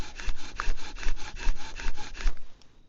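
A bow drill spins a wooden spindle for friction fire starting with proper bowstring tension, giving rhythmic back-and-forth wood rubbing strokes, about nine of them, close and steady before stopping.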